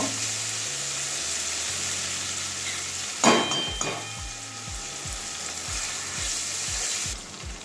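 Pasta frying in a pan with soy sauce sizzles steadily while a utensil scrapes and stirs, giving a sharp clatter near the middle and then a run of regular rhythmic scraping strokes, close and fairly loud.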